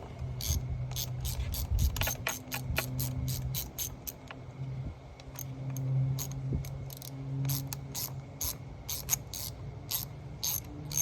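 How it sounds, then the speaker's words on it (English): A ratchet wrench clicks in rapid repeated bursts while ignition coils are changed on a 1994 Evinrude 25 hp two-stroke outboard motor; the clicking is close and steady over a faint low hum. "You can hear my ratchets giving me some problems"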